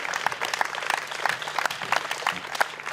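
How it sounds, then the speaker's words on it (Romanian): Moderate applause at a tennis tournament awards ceremony in Galați, individual claps distinct and uneven from a smallish audience, continuing throughout. "Aplauze pentru Georgia Andreea Crăciun"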